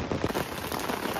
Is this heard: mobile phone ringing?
no